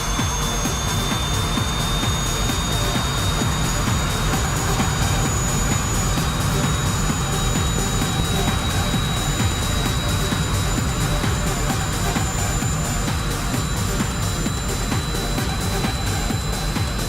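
Simulated aircraft engine in the FlightGear flight simulator roars steadily as it powers up for takeoff, a loud continuous broadband drone with a whining tone held throughout.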